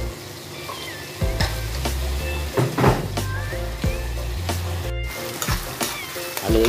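Chili dropped into a hot pan of kangkong sizzles and fries steadily, with soft stirring clatter and a few thunks of utensils against the pan, under light background music.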